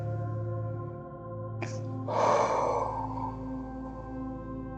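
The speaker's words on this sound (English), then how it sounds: "Slow, deep breath." During a slow, no-impact stretching workout, a single slow, deep breath is audible: a short sharp intake followed by a long, airy exhale over a soft background hum.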